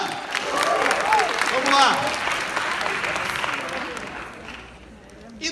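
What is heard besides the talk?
audience applause for a friend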